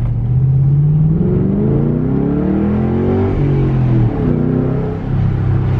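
A car fitted with Eibach Pro damper, sway bar and Sportline spring kits revs up steadily, pitch climbing through the gears, loud and close, with a brief dip before pulling again.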